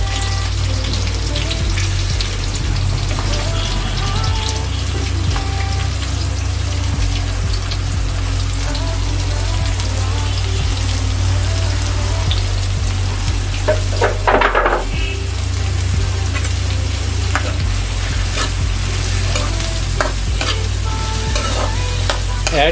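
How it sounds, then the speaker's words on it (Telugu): Chopped onions with green chillies frying in a pan, a steady dense sizzle running throughout with occasional stirring clinks and scrapes, close and loud, no talk. "మనం కట్ చేసుకున్నటువంటి ఉల్లిపాయలు చిన్న చిన్న ముక్కలు ఇందులో యాడ్ చేసుకోవాలి"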